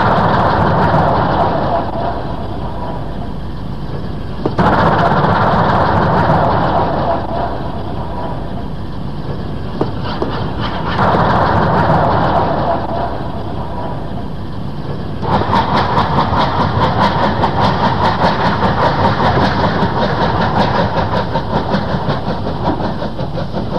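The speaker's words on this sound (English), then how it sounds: "Brief glimpse of a rare visitor to Oxford, former LNER K3 number 61834" Former LNER K3 steam locomotive number 61834 works at Oxford, loud rhythmic chuffing and rumbling that surges and eases in bursts, with wheel clatter growing steadier toward the end.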